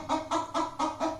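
A white hen, freshly unboxed after delivery in Pune, clucks in four or five evenly spaced, fairly loud bursts close to the listener, with no talking.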